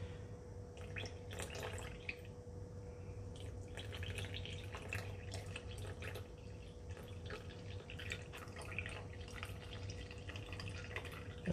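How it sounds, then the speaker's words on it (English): Water is poured from a small vessel into a bread machine pan onto yeast, with soft, faint trickling and drips in a quiet kitchen. "I'm just going to put a little bit of water where the yeast is, just to get that, start to activate that yeast"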